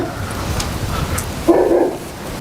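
A dog barks loudly and close by, a short burst of two or three barks following quieter indoor background noise.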